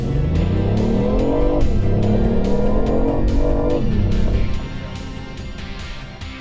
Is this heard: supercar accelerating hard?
yes